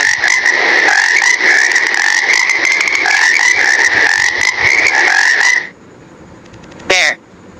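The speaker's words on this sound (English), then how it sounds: "Frog." Frog croaking in a dense, rapid rattling series that runs loud and continuous for several seconds before stopping, followed by a brief separate squeak.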